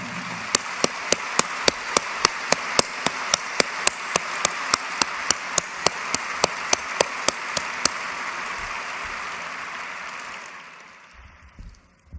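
Audience at the Berkshire Hathaway annual meeting applauding, a broad wash of clapping under sharp, evenly spaced loud claps or taps beating about every third of a second, fading out near the end.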